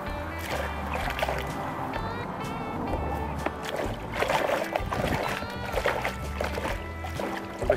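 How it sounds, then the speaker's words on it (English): Freshly harvested carrots are swished and splashed in water close by. The sloshing comes in busy bursts with dripping between them, and someone talks briefly over it. "Let's give this odd one a wash as well."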